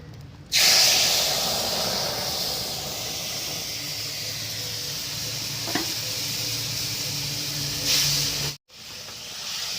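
Spice paste of turmeric and salt mixed with a little water sizzles hard in hot oil over fried potatoes for a river-fish curry, a loud steady hiss from start to finish with a brief stirring scrape partway through.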